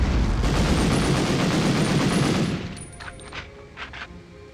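Bazooka blasts and gunfire in the Medal of Honor video game, a dense roaring volley of loud shots that cuts off abruptly into quieter scattered crackles and faint pops.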